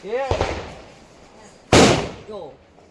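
Two sharp Diwali firecracker bangs, the second louder and closer, with voices talking before and between them.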